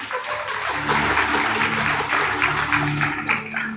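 A church congregation claps together in a dense, sustained burst, with voices murmuring and calling out underneath.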